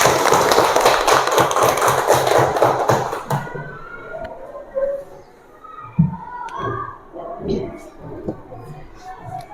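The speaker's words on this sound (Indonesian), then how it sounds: "Oke, tepuk tangan untuk semuanya." Schoolchildren clapping their hands together in a classroom, a dense burst of many hands for about three seconds that stops abruptly, followed by quieter scattered room noise and a few soft taps.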